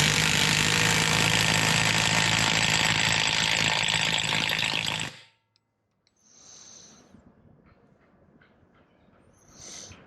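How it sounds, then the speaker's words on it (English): Pneumatic rattle gun impact wrench fastening a replacement axle on a BMW 335i with the N54 engine, a loud sustained hammering burst for about five seconds that cuts off abruptly, followed by quieter shop noise and brief hisses. "I'm gonna do it with the rattle gun to save time"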